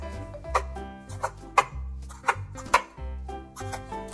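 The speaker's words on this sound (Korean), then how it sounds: "2개는 가지 모양 그대로 납작하게 적당한 두께로 썰어줍니다" Knife slicing flat rounds of eggplant on a cutting board, five or six crisp cuts falling at a steady, unhurried rhythm, close and clear with no talking.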